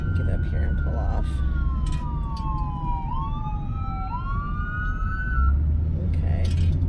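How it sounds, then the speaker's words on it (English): Ambulance siren wailing on the road as it approaches and passes, its clear rising and falling tone sliding in pitch over steady car engine and road rumble, heard from inside a moving vehicle. "there's an ambulance coming"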